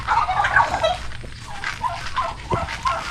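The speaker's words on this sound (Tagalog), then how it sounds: "Ating mga gansa." Loud honking and gobbling calls from several geese, repeated in irregular bursts close by over an outdoor background.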